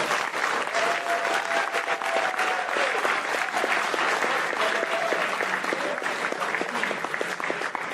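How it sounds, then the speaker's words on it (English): An audience at the Anthrocon 2019 late-night show applauds the first-time attendees, a dense, steady wall of clapping that holds at full strength throughout, with scattered voices mixed into the crowd. "give all these first-timers a round of applause"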